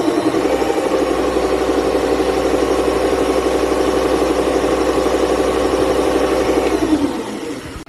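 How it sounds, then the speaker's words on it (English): A lathe with a left-hand single-point threading adaptor runs steadily, its plastic gears giving off a loud, even mechanical whir and hum that carries on without a break for about seven seconds before it winds down. "Those plastic gears are a little bit noisy"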